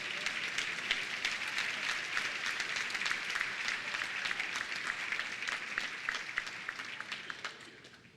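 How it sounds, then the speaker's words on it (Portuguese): A church congregation applauds during a Sunday worship service, a steady wash of many hands clapping that holds evenly for several seconds before fading out at the end. "Você pode aplaudir Jesus mais uma vez?"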